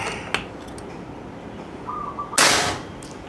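A single sharp shot from a Pasopati PCP air rifle cracks loudly near the end with a short fading tail, preceded by a faint click and a brief whistle-like tone outdoors.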